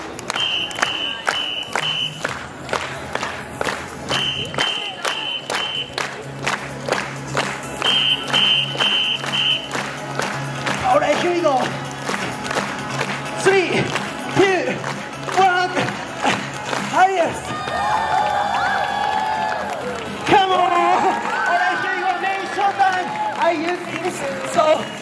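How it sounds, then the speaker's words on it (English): An audience watching a juggling street performer at Covent Garden in London claps in rhythm and cheers, with bursts of shouting and applause while the performer talks and calls out over the crowd. "So, please clap your hands."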